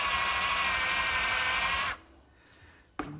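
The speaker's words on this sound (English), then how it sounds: "I'm going to switch to this countersink to make a recess for the screw head." A power drill fitted with a countersink bit cuts a recess into a brass piece for a screw head, giving a steady high whining grind for about two seconds before stopping, followed by a brief quiet clatter.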